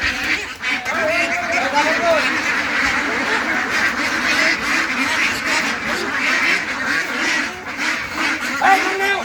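A dense flock of ducks quacking continuously and loudly, many calls overlapping, with voices talking underneath.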